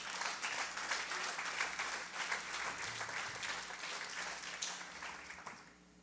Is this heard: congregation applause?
yes